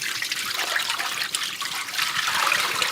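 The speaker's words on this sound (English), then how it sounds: "The dirty water from the pads is stored in a separate tank, which can be hard-lined into a water line and drained in a house, or just emptied manually" Dirty mop water from a Narwal Freo X robot mop's tank is emptied by hand, a steady hissing trickle and splash of liquid running throughout, fairly close and with no voices.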